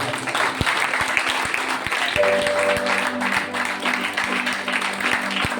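A congregation claps at a Christmas church service, with steady crowd applause throughout and sharp individual claps standing out over a sustained musical tone in the background.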